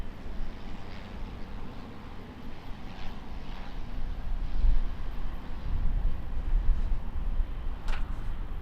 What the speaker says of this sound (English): We've just got a Barrier Air Caravan coming in.